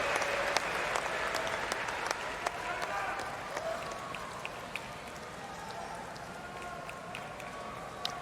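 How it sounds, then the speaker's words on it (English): Polite, fairly faint applause ripples through the stands at a US Open fourth-round tennis match between Casper Ruud and Taylor Fritz, a soft spread-out patter with occasional sharper claps and crowd murmur beneath. "Even got a little round of applause from Casper Ruud"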